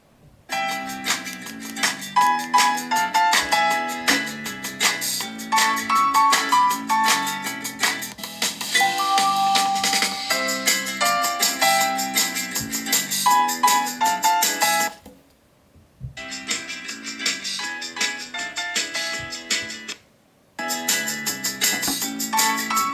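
Music plays from the built-in speaker of a Google Pixel 4a phone: a dense, bright, bell-like melody, loud and steady, broken by two short silent gaps near the end.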